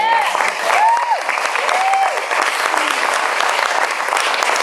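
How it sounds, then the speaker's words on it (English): Wedding guests applaud after a toast, a loud, continuous clapping from a close crowd with cheerful voices calling out over it near the start. "so round of applause to that"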